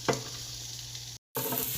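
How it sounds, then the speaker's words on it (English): Onions sautéing in oil in a small pan give a steady, quiet sizzle with a brief clatter near the start, then cut out for a moment before the hiss carries on. "Next we're going to saute some onions in a pan."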